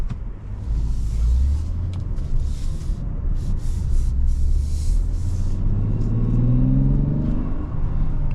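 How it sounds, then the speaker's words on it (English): A 2025 Mazda CX-90's inline-six engine hums steadily while driving, with a smooth low drone that rises in pitch as it accelerates toward the end. "The inline six really does sound nice."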